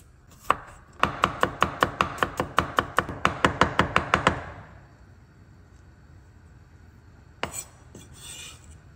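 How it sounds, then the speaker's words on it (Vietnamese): Garlic minced with a knife on a cutting board for frying with shrimp heads: about fifteen rapid, sharp, evenly spaced chops close by, a pause, then a single louder knock near the end. "Kế đó thì mình sẽ bằm tỏi để chút nữa xào với đầu tôm nha."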